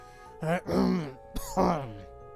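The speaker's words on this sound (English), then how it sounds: "hear coughing sounds. They sound like they're from a person that's in pain." A person in pain, in the video game Spirit Hunter: NG, lets out two strained, groaning coughs close by, raspy and pained, separated by a brief pause.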